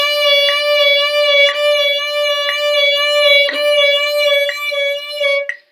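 Violin vibrato exercise played in 16th notes: one sustained bowed pitch with a rich harmonic series and faint regular pulsing, sounding alone and steady for several seconds before trailing off.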